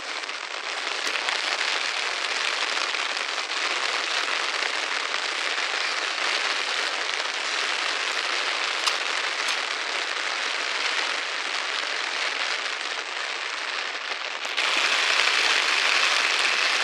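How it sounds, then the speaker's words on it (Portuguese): Steady rain drums on an umbrella held close, a dense constant patter that continues unbroken, briefly growing louder near the end, with no talking. "começou a chover agora"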